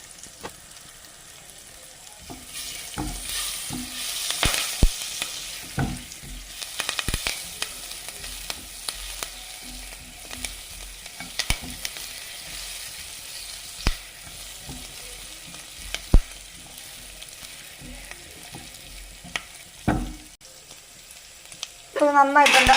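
Chicken 65 frying in oil with a generous handful of curry leaves, a continuous close sizzle broken by clattering stirs and scrapes, with occasional speech nearby.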